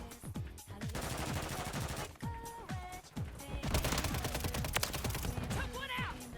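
Gunfire from a gun in a video game: rapid, loud bursts of shots over game music and effects, with brief pauses between volleys.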